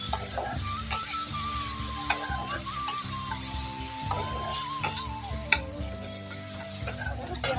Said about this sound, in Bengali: ফোড়নের মধ্যে আমি পেঁয়াজ টমাটোটা দিয়ে দিচ্ছি